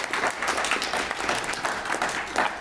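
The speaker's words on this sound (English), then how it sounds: "Let's clap for her." An audience applauds Utah Lieutenant Governor Deidre Henderson at a Bills & Bagels event, a brief burst of steady clapping from a roomful of people.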